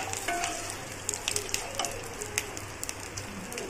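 Whole spices, cardamom, cloves, cinnamon and peppercorns, sizzle in hot oil in a pan. The frying makes a steady soft crackle with scattered small pops, heard close up and with no talk.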